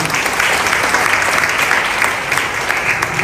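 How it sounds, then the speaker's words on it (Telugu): An indoor audience at a wellness center company celebration claps together in a dense, steady round of applause, loud and sustained from start to finish. "బిగిన క్లాప్స్ అండి అందరూ కూడా"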